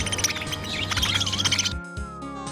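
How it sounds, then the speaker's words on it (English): Birds chirping at a petting farm with ostriches, goats, ducks, rabbits and donkeys, a rapid run of bright tweets over a musical backing that drops out near the end. "birds,"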